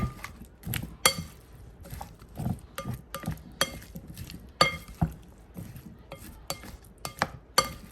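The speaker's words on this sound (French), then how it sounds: "Et là, je m'en vais mélanger le tout." Salmon and potatoes stirred together in a dish for an oven bake, giving irregular clinks and scrapes of a utensil against the dish, close and moderately loud, with no talking.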